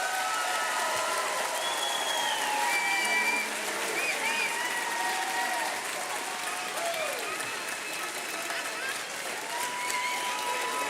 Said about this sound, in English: One last round of applause for our graduates,